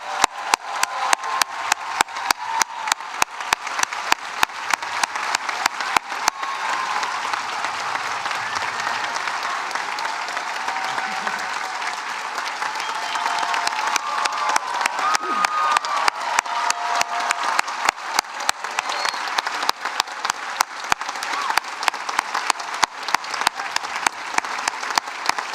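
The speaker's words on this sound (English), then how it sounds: "Give one more round of applause to this incredible class of students." A graduation audience at Noble and Greenough School gives a long, sustained round of applause with some cheering, a thick steady roar of clapping that swells slightly in the later part and continues without speech.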